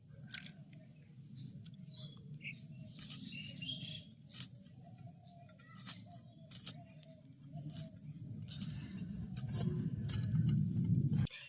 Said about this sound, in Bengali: দেখুন, এইভাবে ছোট ছোট টুকরো করে কেটে নেব।